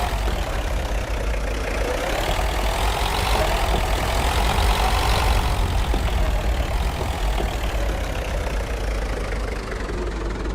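A video game car engine revs and holds a steady, loud rumble as the character pulls away, the pitch rising then settling over ten continuous seconds with no talking.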